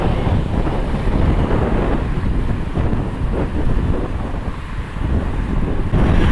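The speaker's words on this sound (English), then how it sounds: "It's very windy today." Strong, steady wind at an airport buffets the microphone with a continuous low roar and gusty rumble throughout.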